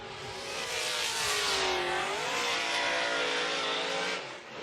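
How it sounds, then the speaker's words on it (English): A drift car engine revs hard during Formula D qualifying in Orlando, a loud sustained whine that rises and falls in pitch with an odd, uneven tone, heard close and alone without commentary. "Kind of a weird engine noise."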